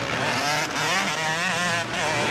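Several Honda CRF 450 motocross motorcycles race close together, a continuous loud, buzzing engine roar with shifting pitch as riders battle for position.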